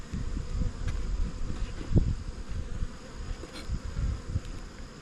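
Honey bees buzz around an open hive during an inspection a week after mite treatment. There is a steady close drone with a few louder passes of individual bees near the microphone, and nobody speaks.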